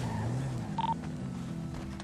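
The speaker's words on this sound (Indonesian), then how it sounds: "Telepon ya, gua telepon ya." Phone keypad tones from a call being dialed in the video game GTA V roleplay, a short electronic beep over a steady low game background hum.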